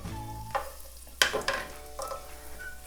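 Raisins fry in hot oil for semolina coconut ladoo, a soft steady sizzle with a few scraping stirs of a spoon in the pan, close and fairly quiet, with no talking.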